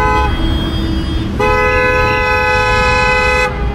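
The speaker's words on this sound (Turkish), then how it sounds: "Kornaya basanlar mı dersin?" Car horns honk in a gridlocked traffic jam after an accident at an intersection with dead traffic lights, two long, loud, close blasts held almost continuously, one overlapping the other, over low road noise.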